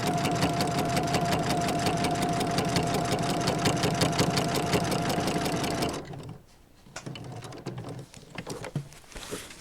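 A sewing machine stitches along the edge of a fabric pocket on an advent calendar, a loud rapid even rhythm of needle strokes for about six seconds, then stops, leaving faint handling clicks.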